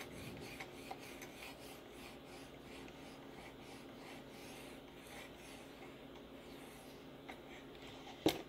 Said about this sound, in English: if you have to go back and do deburring strokes you can use that same amount of light pressure doing the deburring strokes